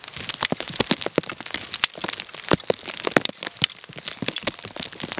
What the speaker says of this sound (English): It's freezing rain.